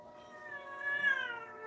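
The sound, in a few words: cat meowing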